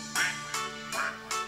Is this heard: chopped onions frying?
no